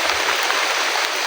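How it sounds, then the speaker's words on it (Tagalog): Heavy rain pours down steadily, a dense, loud, continuous hiss of water with no breaks and no voices. "Kalakas ng ulan mga idol."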